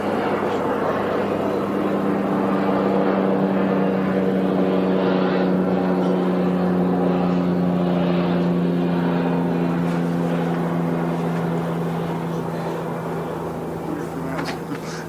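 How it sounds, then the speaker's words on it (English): A float plane flies past, giving a loud, steady propeller and engine drone with a strong low hum. It holds for most of the stretch and eases slightly toward the end. "There goes the float plane."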